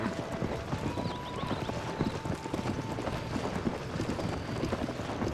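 Horse hooves clip-clop steadily while a horse pulls a wagon in Zelda: Tears of the Kingdom, a continuous rhythmic trot over a rumbling ambient bed with faint wind and no talk.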